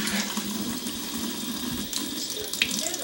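Hot water pours from a kitchen tap in a steady, close splashing stream, filling a pot of jar lids for jelly making, running continuously with no voices.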